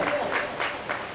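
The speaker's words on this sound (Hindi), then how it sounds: "उनके लिए एक बार जोरदार ताली बजाएं, जोरदार ताली बजाएंगे" A church congregation applauds a pastor during a sermon, giving a short burst of dense, steady clapping that fills the room.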